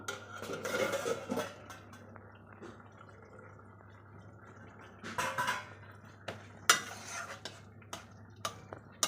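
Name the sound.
lid taken off a pot of bottle gourd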